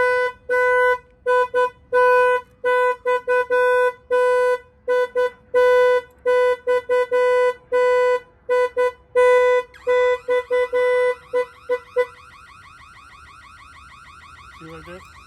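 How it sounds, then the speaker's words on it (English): Volvo semi truck alarm set off remotely, blaring in rapid rhythmic bursts of a loud pulsing tone that later shifts to a warbling siren pattern before cutting off, heard fairly close. "I'm going to set off the alarm"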